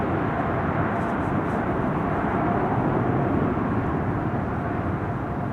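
Thrust reverser roar of an airliner landing at Amsterdam Schiphol, a steady, loud, broadband rush that holds the whole time without a break.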